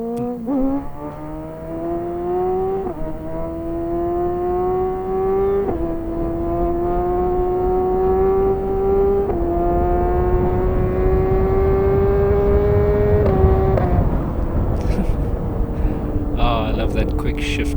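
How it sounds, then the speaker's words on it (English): A BMW HP4 Competition motorcycle accelerates hard, engine pitch climbing through several quick upshifts with short dips between gears, finishing with a quick shift into sixth; loud and close under rushing wind noise. "That quick shift to 6 there at the end just sounds so good."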